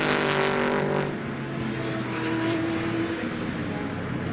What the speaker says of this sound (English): Listen how smoothly he puts the throttle down as not to spin the car.